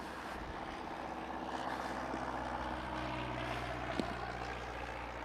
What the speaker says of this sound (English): That's a nice plane.